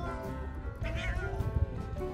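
A stray cat at a winter seaside harbour in Janggo Port, Dangjin, gives a short clear meow near the start over faint background noise.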